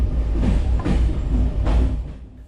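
A train departing Budapest Keleti station heard from on board: a steady low rumble with a few rhythmic clunks of wheels over rail joints, loud and close, with no voices.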